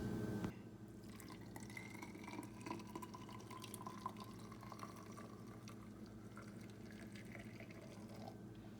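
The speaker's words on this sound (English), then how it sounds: "Let's get the water in." Water pours into a DAVIDsTEA matcha maker in a soft, steady trickle with a gently rising fill tone, quiet and close, after a brief louder start.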